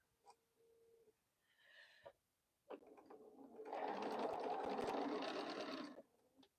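Sewing machine stitching a quilt seam on a boho heart quilt block, starting with brief bursts and then running steadily for about two seconds before stopping, close and fairly loud with no talk.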